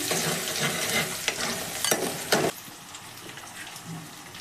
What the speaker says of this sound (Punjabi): ਇਹਦੇ ਵਿੱਚ ਆਪਾਂ ਹਰੀਆਂ ਮਿਰਚਾਂ ਪਾ ਦਾਂਗੇ ਇਹਨਾਂ ਨੂੰ ਵੀ ਆਪਾਂ ਭੁੰਨ ਲਵਾਂਗੇ